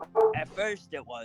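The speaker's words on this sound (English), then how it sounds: "Pardon me, that's my dog." A pet hound barks in a few short, close yips mixed with a voice speaking over it during a tabletop role-playing game session at home.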